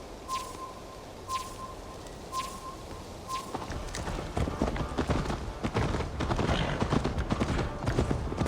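A horse gallops in Assassin's Creed Valhalla, rapid hoofbeats building into a dense, loud rhythm after a few seconds of birdsong and quieter ambience.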